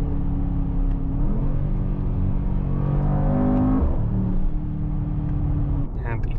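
A 2023 Mercedes-AMG GT 63 S 4-Door Coupe drives in electric mode: a steady close road hum with a motor whine that climbs in pitch mid-run, then settles back to cruising noise.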